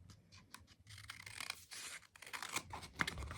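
Cheap craft scissors snipping through yarn or paper, faint scattered crisp cuts and scratchy rustles close by with no talking.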